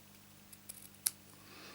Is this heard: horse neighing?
no